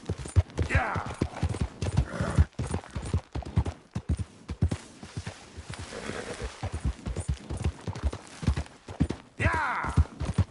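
Horse hoofbeats clip-clop in the Red Dead Redemption 2 video game, a steady galloping rhythm up close, with a voice urging the horse on over it and a brief whinny.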